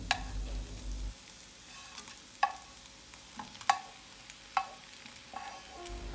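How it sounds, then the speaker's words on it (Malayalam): Chopped onion with salt being sautéed in a pan for a leftover dosa dish, giving a steady low sizzle with several sharp spoon scrapes and clinks against the pan, close and with no talk. "ചെറുതായി അരിഞ്ഞത്, ആവശ്യത്തിനുള്ള ഉപ്പും കൂടി ചേർത്ത് നന്നായി വഴറ്റിയെടുക്കുക."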